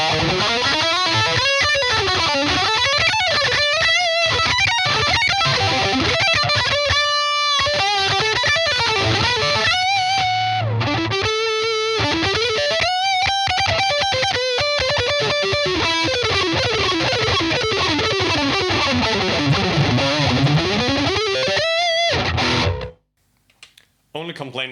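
Heavily distorted metal guitar played through a Peavey Vypyr 75 amplifier: a continuous loud, saturated riff with a sustained chord, cutting off abruptly near the end.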